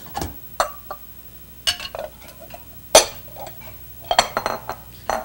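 Ceramic soup bowls and a ladle clink and knock in a kitchen as soup is dished up, with scattered sharp clinks and scrapes spaced irregularly, close and fairly crisp.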